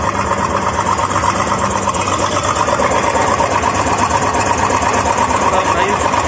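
A 1975 Waryński K-606 Polish crawler excavator runs with a steady, loud, continuous engine drone and mechanical clatter that holds throughout.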